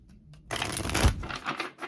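Tarot cards are pulled out and shuffled up close, with a soft rustle building into a dense run of riffling flutters after a brief quiet start, and no talking.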